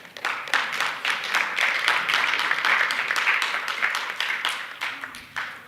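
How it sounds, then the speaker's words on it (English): Applause for junior high students at a spelling bee awards ceremony: a dense, steady round of clapping from the audience that fills the whole stretch and thins slightly at the end. "I'd like to give everyone a big round of applause."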